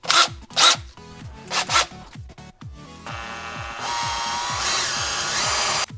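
A handheld drill with a Forstner bit bores a hole through foam for a prop knife. A few short close bursts of whirring give way to a steady, loud grinding whine that runs to the end.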